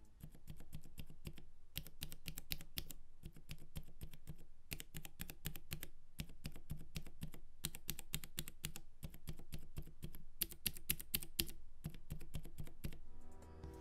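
Typing on Cherry MX Silent Red keyswitches in a Varmilo VA68 keyboard with no case, a steady run of soft, muted keystrokes in quick bursts with short pauses, close and fairly quiet, no voices.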